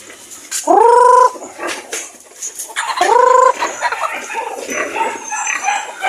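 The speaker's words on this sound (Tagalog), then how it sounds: "Ito ibang manok natin" Native white chickens on a farm, with two loud rooster crows close by, one early and one midway, followed by softer clucking and scattered bird calls.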